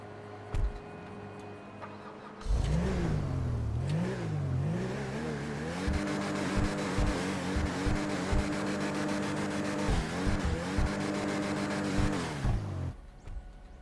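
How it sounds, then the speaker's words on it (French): A Cavalcade XL SUV in GTA Online starts up after a short click, and its exhaust settles into a steady, buzzing idle hum with a few throttle blips. The engine cuts off near the end. "je vais vous faire écouter le bruit des pots d'échappement au démarrage"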